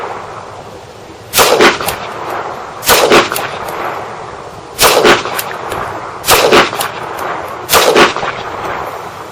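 Five pistol shots crack loudly at an outdoor shooting range, spaced at steady intervals of roughly one and a half seconds, each a sharp close report with a brief tail over faint background noise.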